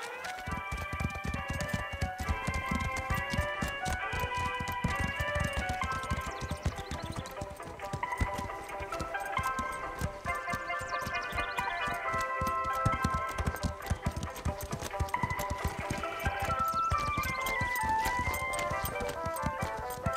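Cartoon horses clip-clopping at a walk in a steady rhythm, with a bright melodic tune playing loudly over the hoofbeats.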